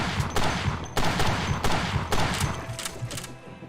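Automatic weapon in Kingsmouth Island fired full auto at a military base, loud broadband bursts repeating in quick succession for several seconds, with no voices over them.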